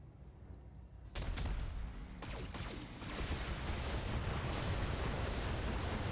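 A gunshot in the video game BattleTech bursts in abruptly after a quiet lead-in, followed by a loud, sustained roaring rumble with further cracking impacts that fill the rest of the clip.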